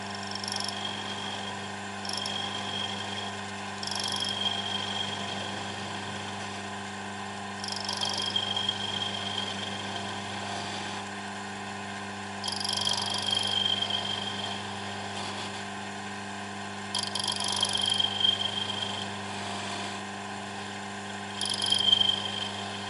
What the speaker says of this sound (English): I'll try a spindle gouge.